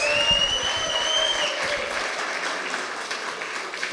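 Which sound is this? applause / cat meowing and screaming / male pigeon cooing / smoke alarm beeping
applause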